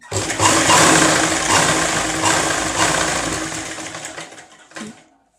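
A sewing machine stitches a blouse, running with a fast, loud, close mechanical whirr for about four seconds before slowing and stopping with a final short burst.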